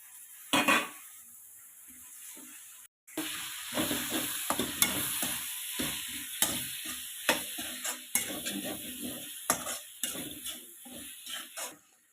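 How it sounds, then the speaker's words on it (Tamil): Chicken with ginger and garlic sizzles in a pan for chicken kulambu, while repeated metal scrapes and clinks of stirring against the pan sound close and loud, with one short pause near the start. "அந்த சிக்கன் எடுத்து போட்டுக்கலாம்."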